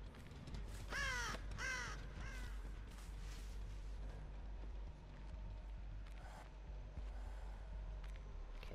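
Crows cawing in the Dead by Daylight video game on the Freddy Krueger map, two or three sharp caws early on over a constant low rumbling game ambience, with faint scattered noises after.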